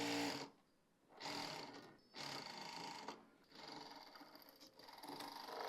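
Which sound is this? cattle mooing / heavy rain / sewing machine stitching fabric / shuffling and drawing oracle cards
sewing machine stitching fabric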